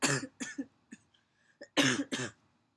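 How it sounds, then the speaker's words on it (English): Several short, sharp coughs in bursts: two quick ones, a faint one, then two louder harsh coughs close to the microphone. "have a little cough that's trying to hang around"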